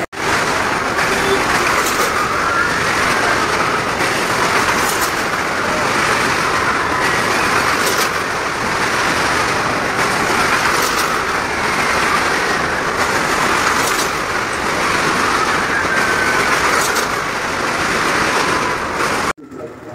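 Motorcycles and a Maruti car circle together inside a well of death show at an exhibition in Nampally, Hyderabad, making a loud, continuous roaring drone with rhythmic surges as they pass around the wall, ending abruptly.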